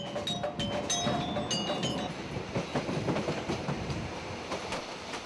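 A commoner passenger train runs in Jakarta, Indonesia, with a continuous rattling rumble of the cars and scattered metallic clinks and squeals close by.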